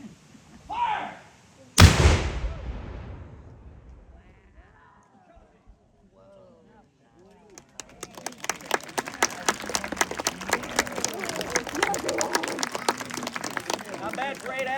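A historic cannon fired with an 8-ounce powder charge at a Revolutionary War demonstration in Yorktown, Virginia, gives one loud, sharp blast that rolls off into quiet. Crowd applause follows, loud and sustained.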